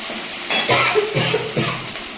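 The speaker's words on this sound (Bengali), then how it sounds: "মশলাটা কিন্তু সুন্দর করে ভাজা হয়ে গেছে" Spice paste sizzles and spits in hot oil in a pan with a few stirring scrapes and clinks, while a faint voice murmurs in the background.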